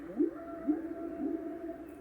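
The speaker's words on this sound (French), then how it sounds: "Second bruitage, avec les baleines. Donc c'est pareil, bruit de l'océan, baleine en fond." A baby's night light plays ocean sounds with a whale call, a low, mournful moaning that rises and swoops three times over a steady wash of sea noise at moderate volume.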